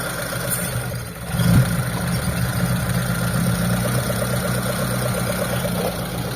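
Mitsubishi Lancer GLXi engine idling after a hydrovac replacement, a steady, even hum with a faint rhythmic pulse heard close, with a short bump in level near the start.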